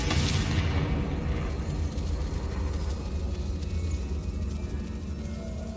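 A Confringo blast spell explodes in Hogwarts Legacy, a loud burst at the start fading into a sustained low rumble and crackling debris that fills the rest of the stretch, with no voices.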